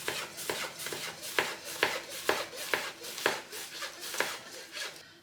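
A knife chops onions on a wooden board in an even rhythm of about a dozen crisp, close strokes, heard alone with no talking.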